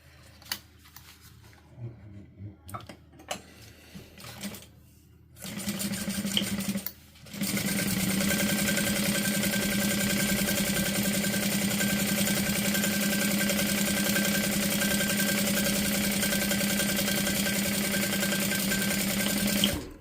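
A sewing machine backstitches through zipper tape, with a few short stitching bursts and handling noises first, then a loud, steady, close run of fast mechanical stitching that continues to the end.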